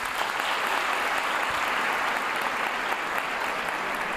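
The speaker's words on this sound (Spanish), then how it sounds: "A ver, aplaudan los que no le molesta esto" A comedy show audience breaks into steady applause, a dense even wash of many clapping hands filling the room without pause and no voices over it.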